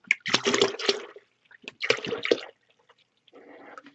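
Cactus Juice wood stabilizing resin is poured into a container in a few separate bursts of close liquid splashing and glugging, with short quiet gaps between pours.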